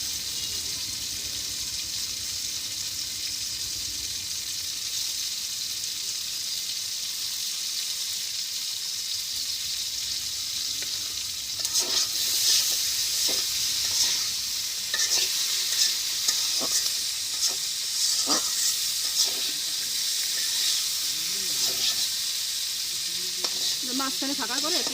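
Fish sizzles loudly in hot oil with chili in a village kitchen, with steady frying hiss throughout and intermittent stirring and scraping clinks in the pan partway through.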